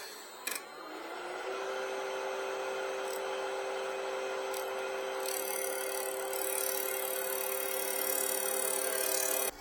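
Wood lathe turning a tenon on a small wooden Argentinian mate, a steady high whirring hum with a faint scraping tool cut running throughout after a brief start, close and moderately loud.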